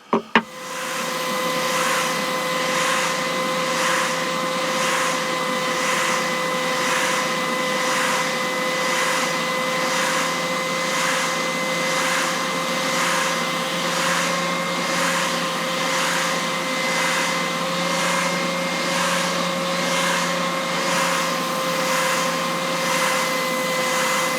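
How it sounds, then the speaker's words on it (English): A wooden lattice bowl made from scrap wood is sanded down to marked lines, producing a loud, continuous whirring hum with a faint regular pulsing throughout, close by and without talk. "we're going to get it now sanded down to the marks I've made"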